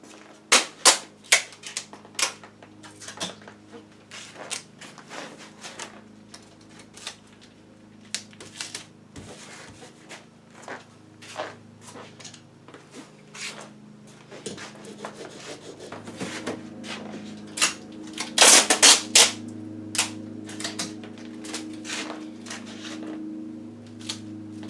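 Tuck tape being pulled and pressed onto a rotten outdoor tarp, heard as a series of sharp crackles, rips and rubbing sounds close by, with a louder burst of tearing near the end.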